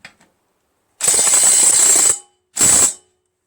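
Impact wrench driving a 9/16 bolt on a John Deere JS63 push mower blade, two close loud buzzing bursts, the first about a second long and the second shorter, separated by silence.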